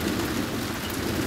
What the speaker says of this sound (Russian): С крыши как капает.